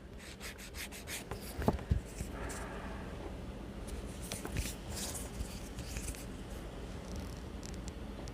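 An emery board files a fingernail in soft, close rubbing strokes at a quiet level, with a couple of small taps partway through.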